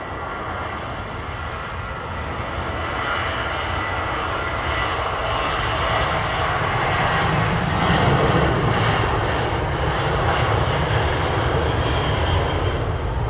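A Boeing 737 jet roars at foggy London Heathrow, a loud continuous engine rumble that swells gradually over several seconds with steady broadband noise and no voices.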